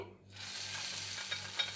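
A hot tempering of mustard seeds, cumin, dried red chilli and curry leaves is poured into chutney, bursting into a sudden loud sizzle that holds steadily for under two seconds, close up.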